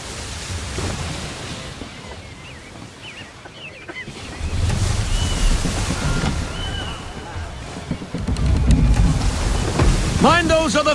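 A sailing ship on the ocean in the video game Assassin's Creed 3: steady wind and surging waves, with heavy wave swells and creaking louder in the second half, and voices calling out briefly near the end.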